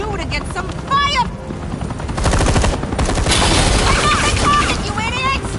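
Gunfire and explosive booms from a PS4 action game, loud bursts layered with music and a helicopter-like drone, while game characters shout over the chaos.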